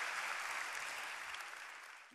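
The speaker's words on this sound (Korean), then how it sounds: "멋진 공연해 주신 교수님께 다시 한번 큰 박수 부탁드립니다" Audience applause for a professor after a performance at a Seoul National University public science lecture, a sustained broad patter of many hands that gradually tapers off.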